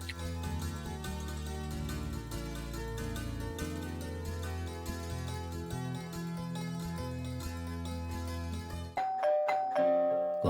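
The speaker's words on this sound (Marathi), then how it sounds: "कोणी बेल वाजवली?" A doorbell chimes in a domestic scene from a Marathi TV serial. A short, bright ding-dong rings out clearly near the end, right after a stretch of sustained background music cuts off.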